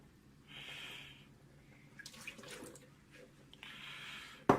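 Deionized water is poured over a 12-inch SkyWatcher 300P Flextube Dobsonian telescope mirror to rinse it: faint splashing bursts at the start and end, with soft drips and handling noises in between.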